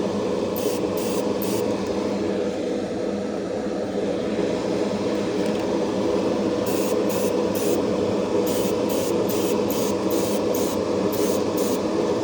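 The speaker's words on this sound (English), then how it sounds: "I'm still trying to figure out the best way to spray these and thin these out and everything." Airbrush spraying thinned primer onto a Bandai Gundam model kit, a steady continuous hiss running the whole time, close and fairly loud, with short rhythmic bursts of higher hiss as the trigger pulses.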